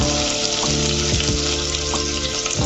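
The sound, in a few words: chopped vegetables frying in pan for noodles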